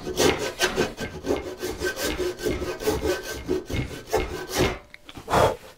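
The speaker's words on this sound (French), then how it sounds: "donc toujours ma scie à tenon" A tenon hand saw crosscuts wood, producing a loud, rhythmic rasping of repeated push and pull strokes that run steadily for several seconds, without any talking.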